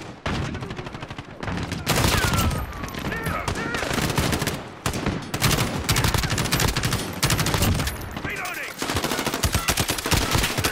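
Dense automatic gunfire rattles in Call of Duty: Modern Warfare, loud bursts and sustained volleys coming close and far with brief gaps, while voices talk faintly underneath.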